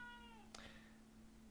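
A cat lets out a single drawn-out meow that rises and falls, faint and somewhat distant in a quiet lecture room, over a steady electrical hum.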